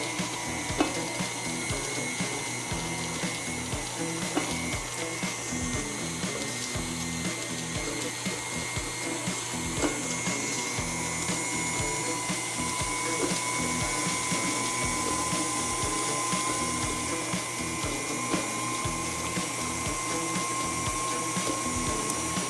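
An electric mixer creams gluten-free, dairy-free peanut butter cookie dough with a continuous, close, whirring motor drone that holds steady and fairly loud throughout.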